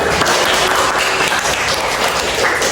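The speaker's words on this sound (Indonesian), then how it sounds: "Berikan tepuk tangan" Loud, dense clapping from a classroom of students, steady and close for the whole stretch, rewarding a classmate's answer during a lesson.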